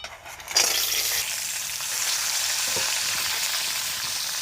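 Crabs dropped into hot mustard oil in a pan hiss and sizzle, a sharp burst of frying that settles into a steady, dense crackle close up with no voices.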